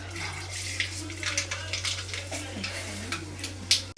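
Mustard seeds crackling and sizzling in a little hot oil in a kadai, a steady frying hiss with small sharp pops scattered throughout, fairly close, alone with a low background hum.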